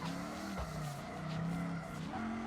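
Engine droning at steady power with harmonic pitch shifts as a V8 car drifts in the BeamNG video game, tire squeal layered over the continuous motor note.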